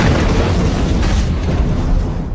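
A loud, sustained broadband rumble and roar from an explosion near Liverpool Street station in London, filling the whole span without a break.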